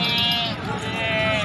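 Pregnant goat at a livestock market bleating in a long, wavering, nasal cry that fills the moment, close and loud, with other market noise underneath.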